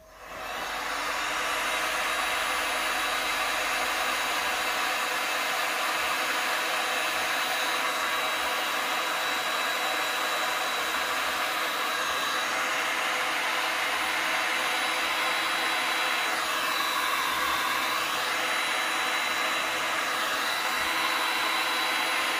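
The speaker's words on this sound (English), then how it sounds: "I'm not digging this, so I'm going to blow dry it out again" A hair dryer starts up and blows in a loud, constant roar on a freeform resin painting, held close and steady throughout with no talking.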